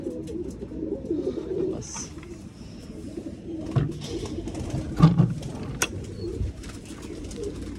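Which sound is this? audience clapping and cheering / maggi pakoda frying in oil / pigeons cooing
pigeons cooing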